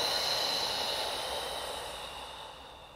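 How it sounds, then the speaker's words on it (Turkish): A slow, deep exhale during a pregnancy breathing exercise, a single long airy breath out close to the microphone that fades gradually over a few seconds. "Nefes ver."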